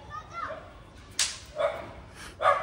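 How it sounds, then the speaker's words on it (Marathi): A pair of neighbourhood dogs bark in short, sharp yips from nearby, three or four separate barks spaced irregularly over a quiet background. "हे आमच्या बाजूचे कुत्रे"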